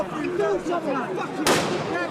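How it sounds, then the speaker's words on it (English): A firework or flashbang goes off with a sharp, loud bang at close range during a street riot in the UK, cutting through excited talking that continues before and after. "Flashbang just landed right by my foot."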